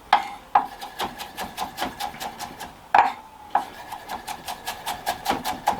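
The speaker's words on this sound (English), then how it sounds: "I'm then going to julienne this so into like matchsticks." Knife julienning ginger into matchsticks on a cutting board, a close run of rhythmic crisp chopping taps, steady and evenly spaced, with a brief pause before the strokes resume.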